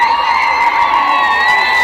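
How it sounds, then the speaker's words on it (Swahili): A church parish crowd in Geita claps and ululates together, a dense, sustained wash of applause with high trilling whoops, loud and continuous throughout. "Kwanza makofi na vigelegele."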